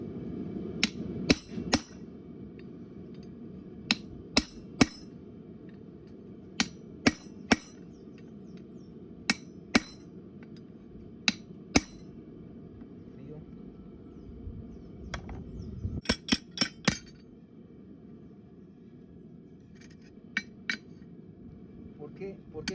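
A hammer strikes a rebar horseshoe to mark its nail holes, sharp metallic clinks arriving one or two at a time with uneven gaps and a quick cluster near the middle, over a low steady hum in a quiet workshop.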